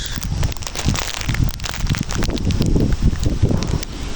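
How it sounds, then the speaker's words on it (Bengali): Strong wind gusts outdoors by a pond at the start of the monsoon, roaring and buffeting the microphone in a continuous loud rush with rustling leaves. "কি পরিমাণ বাতাস"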